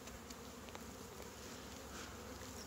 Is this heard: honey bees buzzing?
yes